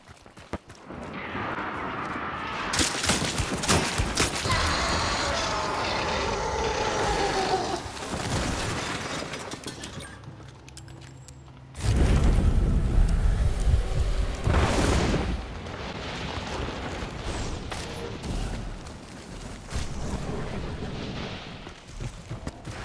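Gunfire and explosive booms in a shooter video game, a dense barrage of loud shots and blasts with a heavier burst midway, while players talk faintly underneath.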